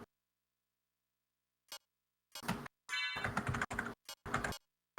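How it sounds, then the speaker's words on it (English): Clicks from a new mechanical computer keyboard during typing, heard as short bursts of close, crisp keystrokes separated by silence, with a dense flurry near the end. "One of the problems with the new keyboard, even though I like the clicking"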